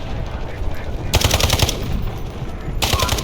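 Gunfire in the Delta Force video game: rapid bursts of automatic weapon fire in two clusters over continuous battle background noise.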